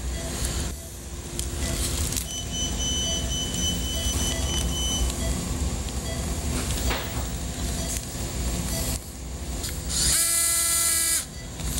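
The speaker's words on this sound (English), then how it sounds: "Now all we have left to do is to put in our locking screws." A surgical power drill whirs continuously and loudly up close as it drives locking screws through a retrograde femoral nail, with a brief shift in pitch near the end.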